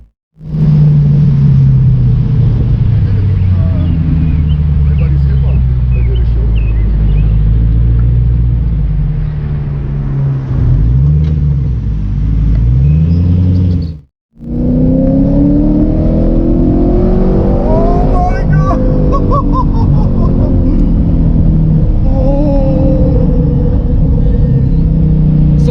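Straight-piped 2006 Ford GT engine roaring through a tunnel, loud sustained revving that rises and falls, with a brief cut midway before the bellow resumes, echoing heavily.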